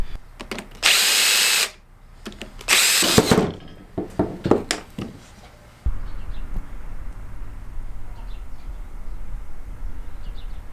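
Power tool runs in two long bursts, then several short pulses while removing the eight bolts from a Peerless 2300 differential. A steady machine hum continues after.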